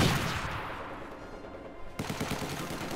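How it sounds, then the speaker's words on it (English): Dense battlefield gunfire in Company of Heroes 2 multiplayer, a loud continuous rattle of rifle and machine-gun shots with a fresh burst near the end, with no one talking. "Infantry fire incoming!"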